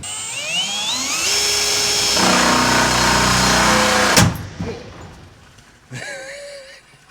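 A power drill whines loudly and steadily while boring a hole through a pipe, its pitch rising then dropping before it stops; a brief whir follows.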